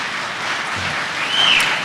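Audience applause at a debate, a short burst of broadband clapping that swells slightly toward the end, steady and moderately loud, with no talking over it.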